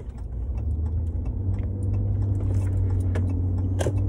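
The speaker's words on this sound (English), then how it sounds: "Sorry for any road noise again." Steady low road rumble from a car driving, with a constant engine drone and tyre noise throughout and a few faint clicks near the end.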